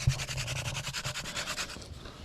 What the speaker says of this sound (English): Here's Dylan on a picnic table doing our hand drill.